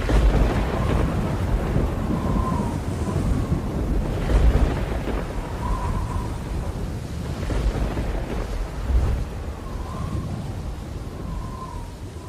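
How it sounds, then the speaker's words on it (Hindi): Heavy monsoon rain pours steadily while deep thunder rumbles roll through several times, loud and close, with no voices, in an animated story. "देखिए कितनी जोर की बारिश हो रही है।"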